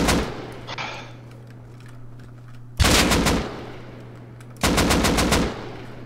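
Automatic gunfire in the video game Rust: two loud, close bursts of rapid shots, each lasting about a second and a half, over a low steady hum, with a faint distant shot early on.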